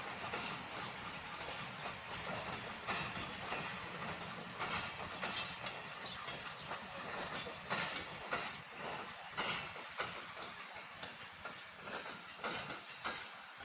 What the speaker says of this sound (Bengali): আমরা ঈশ্বরদী রেলওয়ে স্টেশনে আছি এখন